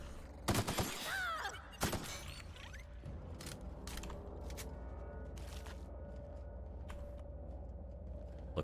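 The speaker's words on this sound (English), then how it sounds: "now they're shooting the sprats" Gunfire crackles in The Outer Worlds as sprats are shot, a rapid cluster of sharp shots early on followed by scattered single reports over a low mechanical hum, fairly faint overall.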